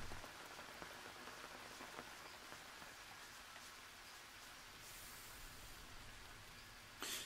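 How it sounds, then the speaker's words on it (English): Steady rain from the survival video game Green Hell pours down on the jungle, a dense hiss of drops on leaves and ground that fills the whole stretch, with a sharper patter near the end and no voices. "I might as well wait until the rain ends"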